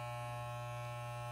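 Wahl electric hair clipper running during a self haircut, a steady close mains-pitched buzz with dense harmonics, alone and unbroken.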